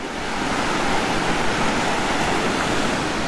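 Steady, loud rush of a river flowing in Yosemite National Park filling the whole clip, a constant broadband roar with no voices.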